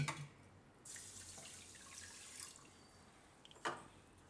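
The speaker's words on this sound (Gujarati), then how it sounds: "ને આમાં આપણે પાણી નાખીશું." Water gushes into a pressure cooker holding washed foxtail millet in a home kitchen, a steady splashing hiss that softens as the pour continues, followed by a brief clink near the end.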